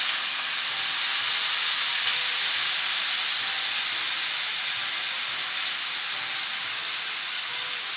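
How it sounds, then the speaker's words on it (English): Salmon searing in hot oil gives off a loud, steady, broadband sizzle and hiss that runs unbroken and close for the whole stretch, with no voices. "Let's go ahead and sear the salmon."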